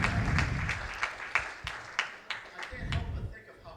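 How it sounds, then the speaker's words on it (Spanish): Congregation at a church service clapping together, a moderate spread of hand claps with speech-like voices mixed in, fairly distant and not very loud. "Aplaudan."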